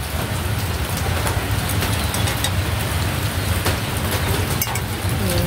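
Steady rain falls outside a home, a dense, even hiss with occasional louder drips, constant and moderately loud throughout with no talking.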